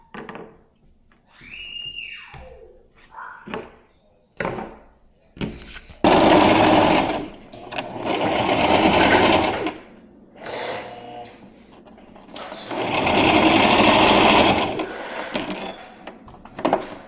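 A sewing machine stitching a fabric tag onto an insulated window cover for a van conversion, running in two long loud close bursts after some brief handling clicks and rustles.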